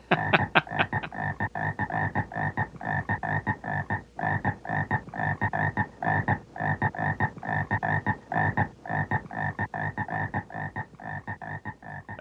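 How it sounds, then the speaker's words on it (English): Dense chorus of frogs and toads croaking loudly and continuously in rapid overlapping pulses, with no music, over the end credits of the 1972 film Frogs. "No music, just frogs."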